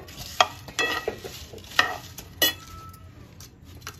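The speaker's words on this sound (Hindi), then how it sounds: "एक मिनट तक इसको सौंफ जीरा को मिला के भुनेंगे।" Fennel and cumin seeds dry roasting in a pan while being stirred, with several sharp scrapes and light clinks of the spoon against the pan over a faint background hiss, close and quiet.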